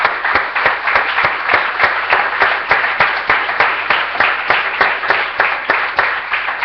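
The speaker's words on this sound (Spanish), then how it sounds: "Démosle un aplauso al Señor." A church congregation claps in a steady, rhythmic unison beat, loud and close, sustained throughout with no voices on top.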